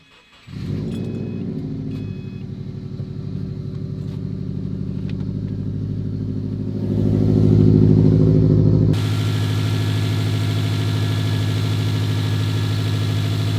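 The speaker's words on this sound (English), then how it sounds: "So now we're just gonna start the car and let the system burp out." A Subaru engine cranks and catches during a coolant flush, then idles with a steady low rumble, briefly rising in pitch before settling back to an even idle.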